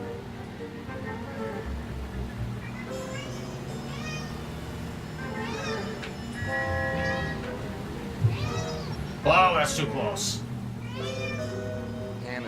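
A pet cat named Pickles meows several times, rising and falling calls close by, inside a moving car amid engine and road noise, with someone talking over and between the meows.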